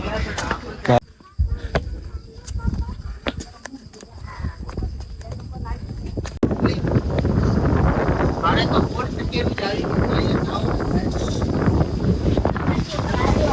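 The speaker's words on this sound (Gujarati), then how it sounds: "વાવાઝોડા જેવો પવન" Strong gusty wind buffets the microphone on the monsoon-season stone steps of Girnar hill, Junagadh, growing louder and steadier partway through, with people talking beneath the roar.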